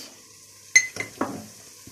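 A soft sizzle of onions sautéing in a pan, with a few clinks and scrapes of a utensil stirring the food, close and fairly quiet.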